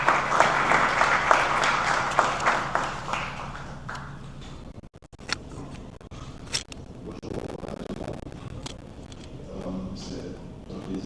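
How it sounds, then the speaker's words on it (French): Applause fills the first few seconds as a guest speaker, an advocate for reform of Haiti's civil registry system, is welcomed at a public event. It then drops away to scattered claps and room noise. "Il s'amène sous l'éclat de vos acclamations."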